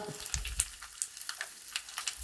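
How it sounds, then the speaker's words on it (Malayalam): Grated coconut frying in a pan, a close, crisp crackling sizzle with irregular popping bursts throughout, no voices. "ഇനി ആ തേങ്ങയും കൂടെ വറുത്ത് നന്നായി മൂപ്പിച്ചെടുക്കാം"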